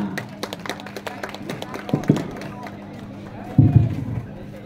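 Audience applause for a contestant at an Indonesian-language speech competition, scattered claps throughout with two louder bursts of clapping under a murmuring crowd.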